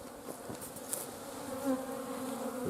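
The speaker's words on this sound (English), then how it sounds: "the bees are flying" Honey bees buzz steadily around a hive, a continuous drone of many insects at moderate distance with slight pitch shifts and no voices.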